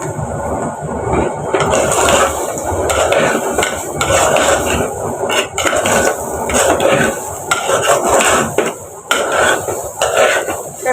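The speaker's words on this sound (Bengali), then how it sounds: "দিয়ে আমি হালকা ভেজে নেব আর কি, যাতে চাউলটা একদম ঝরঝরে হয়।" Raw rice with salt lightly frying in a pot for white Bengali pulao, stirred steadily with a utensil that scrapes and clinks against the metal in a continuous, busy clatter close by.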